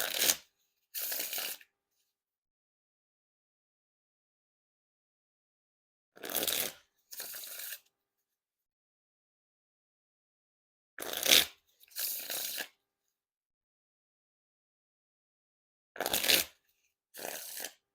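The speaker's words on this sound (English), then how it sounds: "Now time for the riffle shuffle or bridge shuffle." Dan and Dave Damn Good Cards No. 6 playing cards are riffle shuffled four times, each a quick fluttering burst followed by a softer bridge cascade, with long silent pauses between.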